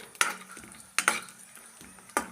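Vermicelli being lightly fried in ghee for a vermicelli almond payasam, with a soft steady sizzle broken by three sharp metallic scrapes of a spoon stirring against the pan.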